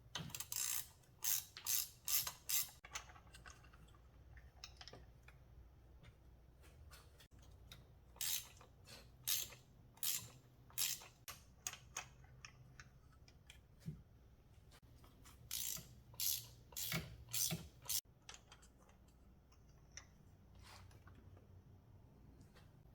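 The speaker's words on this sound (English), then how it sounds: "let's remove the 3 old spark plugs." A ratchet clicks in rapid bursts while loosening old spark plugs on a 2016 Audi A7 Quattro Prestige, sharp, close ticking runs repeating several times with short pauses and faint mechanical handling between them.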